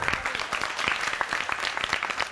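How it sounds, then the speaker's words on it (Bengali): Audience applause at a school prize distribution and cultural programme at Burdwan C.M.S High School: a dense, steady round of many hands clapping, fairly close and sustained throughout. "একটা হাততালি।"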